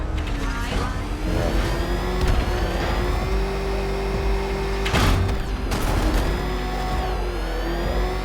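Car engine droning and revving steadily in a Shrek video game, close and loud with a few crashes and bangs, while a voice speaks over it.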